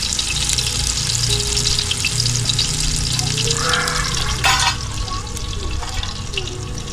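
Country chicken sizzles and spits in a pan over a wood-fired clay stove, stirred steadily with a steady crackle throughout and a brief scraping, watery burst near the end.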